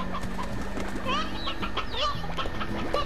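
Clucking chicken sounds from the Slime Rancher video game, several short clucks and squawks over a busy layer of game music and effects.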